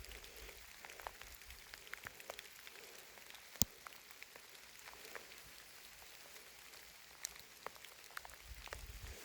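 Steady rain falls outdoors at night, a soft continuous patter with scattered sharper drops striking nearby surfaces, heard alone with no one talking.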